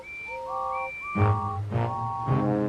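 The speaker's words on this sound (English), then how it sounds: "whistled Thomas, and all the engines tooted" Steam engine whistles from a Thomas & Friends children's story sound in a series of clear, sustained tonal toots, first lighter and higher, then fuller and lower blasts repeating three times, with no voices.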